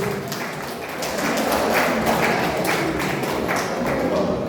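A group of mourners at a funeral wake applauding, a dense continuous patter of many hands clapping at moderate volume, with scattered louder claps and a faint murmur beneath.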